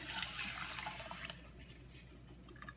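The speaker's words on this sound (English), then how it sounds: "2 cups of cold water." Two cups of cold water pour steadily into a pot of red quinoa, a broad rushing splash for more than a second, then it stops and a few faint drips and trickles remain.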